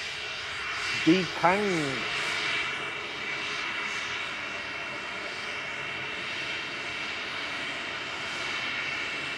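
A VistaJet Cessna Citation business jet departs Manchester Airport, a steady jet-engine roar held throughout, with a brief spoken word near the start over the engine noise.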